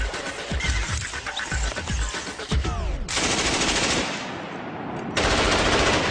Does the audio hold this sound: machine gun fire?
yes